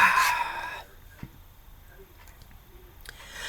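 Chickens outdoors: a loud, shrill rooster-like call fills the opening moment, then only quiet outdoor background remains, with faint scattered sounds.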